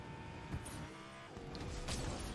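A car driven in the video game Fortnite Zero Build gives a continuous engine drone with faint whooshing and mechanical clunks, steady and moderately quiet throughout.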